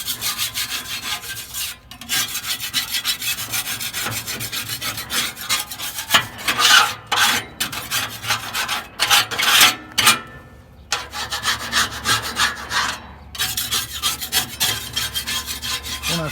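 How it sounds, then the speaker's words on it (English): A regular putty knife scrapes caked grease buildup off the heat shield of a Pit Boss grill, giving a steady run of close, rasping strokes with brief pauses between them. "I find just a regular putty knife will clean that all up very nicely."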